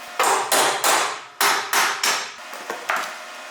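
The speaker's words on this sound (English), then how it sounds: "I'm gonna have to hit that one with a hammer a little bit." Hammer blows on a steel vehicle frame during fabrication work, about nine sharp, ringing strikes in an uneven rhythm, close and loud, with no talking.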